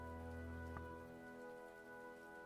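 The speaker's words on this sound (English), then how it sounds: "Okay, starting to rain outside." Soft, faint rain patters steadily on a surface beneath a constant low tonal hum, with no voices.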